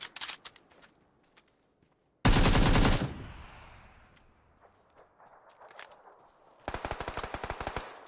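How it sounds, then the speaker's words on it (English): Video game gunfire: a loud, dense burst of rapid shots cuts in around the two-second mark, followed later by another quicker rattling volley, with faint scattered clicks and steps between them and no talk. "Shots from my left."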